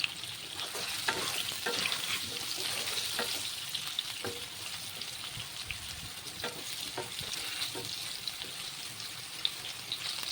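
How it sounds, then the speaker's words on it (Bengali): Potatoes fry in hot oil with salt and turmeric, giving a steady, close crackling sizzle with scattered sharper pops throughout and no voices. "লবণ আর হলুদ দিয়ে আলুটাকে ভালো করে ভেজে নিচ্ছি।"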